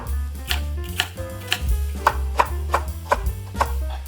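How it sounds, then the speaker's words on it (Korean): Sweet potato being cut into thick slices with a knife on a cutting board, a series of firm, evenly spaced chops close by, each landing as a solid thud, with no talking. "고구마는 이 정도 두께로 썰어 주세요."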